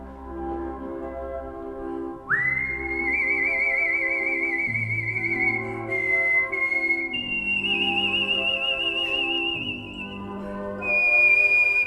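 A professional whistler performs, clear sustained melodic whistled notes that glide between long held pitches over a soft instrumental backing, close and steady, with no talking.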